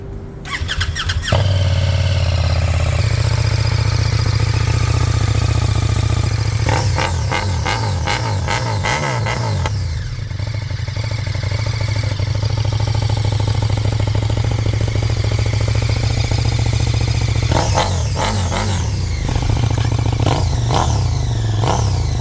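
A zero-mile Brabus 1300R motorcycle fires up and then idles with a deep, steady engine drone, broken by two sharp bursts of throttle revving, loud and close, with no speech.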